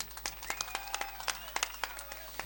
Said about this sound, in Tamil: நம்ம கைதட்டுவோம்.